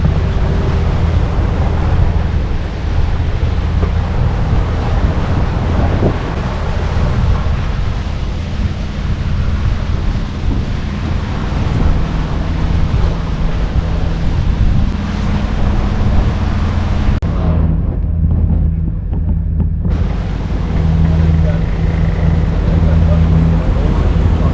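A sailboat cruises the open ocean off Long Beach toward Newport Beach, with a steady broadband rush of wind buffeting the microphone and water washing along the hull, loud and continuous, briefly easing near the end, with a low hum underneath.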